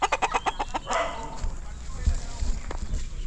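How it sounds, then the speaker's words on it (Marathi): Village country hens cluck in a quick run of sharp, close calls at the start, then fade under outdoor background noise with people talking. "गावठी कोंबडी."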